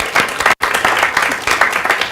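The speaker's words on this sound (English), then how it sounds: "let's give Fleur a round of applause" An audience gives a round of applause at a talk on getting media publicity: a dense burst of clapping, loud and close, with a brief silent dropout, then continuing clapping.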